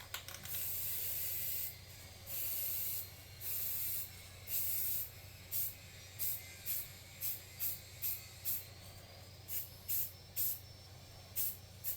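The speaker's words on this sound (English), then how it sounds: "I'm going to spray that with some black." Black spray paint hisses from a can onto a pop-up prop for a tabletop RPG, first in several longer bursts, then in a quick series of short, sharp puffs, close and alone.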